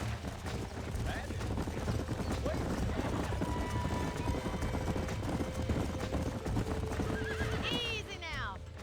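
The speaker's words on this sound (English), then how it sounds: "These are fine horses." In the video game Red Dead Redemption 2, horses whinny and hooves clip-clop over a busy, dense background, ending with a rising, shrill neigh close by; faint voices mix in underneath.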